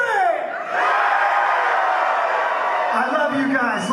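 A concert crowd screams on cue, a dense, loud wall of many voices yelling and whooping together that holds steady for several seconds, briefly dipping before swelling again.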